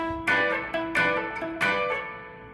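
Distorted electric guitar plays a short solo lick three times in a row, each phrase starting with a bright picked attack, clear and close with no talking.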